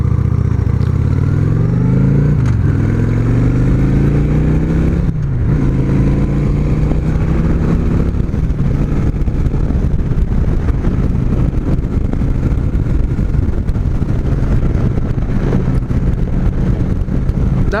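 A motorcycle accelerates at partial throttle on a nice day, its engine note rising in several distinct pulls through the gears, with a gear-change dip and wind rush across the microphone.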